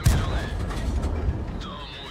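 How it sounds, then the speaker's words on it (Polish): Churchill III tank cannon in a video game firing shot after shot, heavy low booms with mechanical whirring between, close and loud in a busy battle mix. "Zobaczcie, strzał za strzałem."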